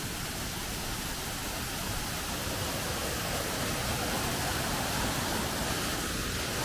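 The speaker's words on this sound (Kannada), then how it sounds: "ನೀರು ಹರಿದೋಗೋದು ಇಲ್ಲಿಂದ ನೋಡಿ, ಅಲ್ಲಿ ಇರೋದು ಜಲಪಾತ." A small waterfall at Savdav near Malvan pours in a steady, dense rush of water that holds even and fairly loud from start to finish, with no voices over it.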